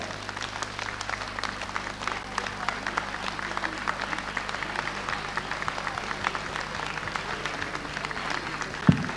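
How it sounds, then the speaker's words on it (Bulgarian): An audience at a 1996 Bulgarian variety show welcomes a singer with sustained applause, a dense, steady patter of clapping from a crowd with a low hum underneath, ending in a sharp thump. "Аплодисменти за нея!"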